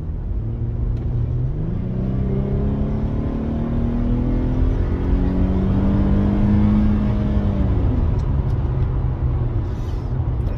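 Infiniti G37 engine on its stock muffler revs steadily upward over several seconds, a loud continuous rumble with rising pitch that eases back near the end, no talking.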